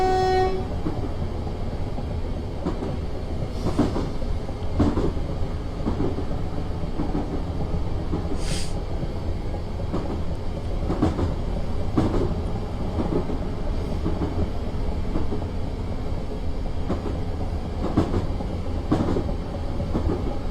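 An Isle of Wight Metro Class 455 electric train in Train Simulator 2016 rolls along with a steady rumble and rhythmic clicks from the track, plus a short, sharp horn toot partway through.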